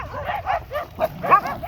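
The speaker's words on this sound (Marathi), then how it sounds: "कुत्र्यांचे खूपच जोरात भांडणं लागलेले आहेत मित्रांनो" Dogs fighting, a fast run of yips, whines and barks in close succession, loud and near, with snarling overlapping calls.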